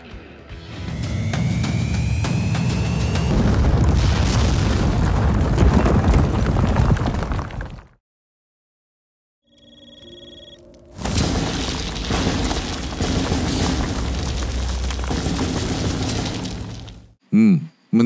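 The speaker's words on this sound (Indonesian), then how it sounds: "Tapi apakah Arji akan bergeming jika dilempari pakai granat" A grenade explodes in a film: two loud bursts of booming, shattering noise separated by a few seconds of near silence, then a short tonal sound at the end.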